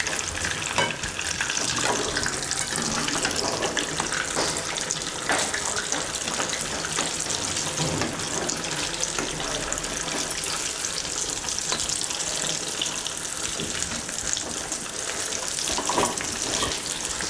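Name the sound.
purnam burelu frying in oil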